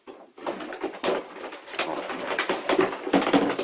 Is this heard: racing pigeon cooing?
yes